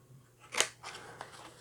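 Scissors cutting a piece out of paper for a craft project: one sharp close snip followed by a couple of softer cuts, quiet and with no talking.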